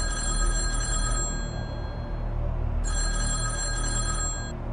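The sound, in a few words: red telephone ringing in the Kremlin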